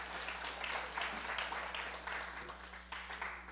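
Audience applause for Fanny, a steady broadband patter of many hands clapping at moderate level throughout, with a low mains-like hum underneath and no talk.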